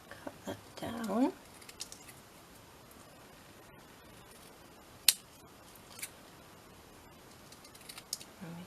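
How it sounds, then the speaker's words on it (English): Scissors roughly cutting a small paper piece during a papercraft project, a brief close snipping burst early on, then quiet with a few isolated clicks and taps. "Just cut that out roughly,"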